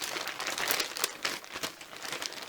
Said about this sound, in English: So let's open this bag up and see what goodies she's sent me.